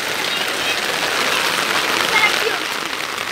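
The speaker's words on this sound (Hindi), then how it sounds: "बहुत टिका के बारिश हो रही है" Heavy rain pours down steadily outdoors, a dense, continuous hiss of drops striking surfaces that stays loud and even throughout, with a faint voice blended in beneath it.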